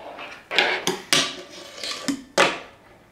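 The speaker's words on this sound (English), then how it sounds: "Ollie to nose grind, and then nollie flip out." A skateboard pops an ollie into a nose grind and then a nollie flip out, late at night. Several sharp wooden clacks and scraping hits come in uneven bursts, close and fairly loud.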